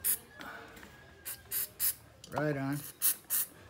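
Short bursts of aerosol cleaner are sprayed onto the electronics and pots of an Aria Pro Japan guitar, several quick hissing puffs in a row, close and sharp, with someone speaking briefly between them.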